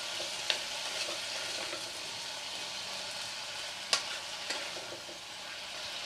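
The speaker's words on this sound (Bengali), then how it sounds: "নুন হলুদ দিয়ে নেড়ে নিয়েছি।" Bottle gourd shoots stirred in a pan with salt and turmeric for a Bengali chorchori, a soft steady sizzle with faint scraping and a couple of sharp clicks of the spoon against the pan.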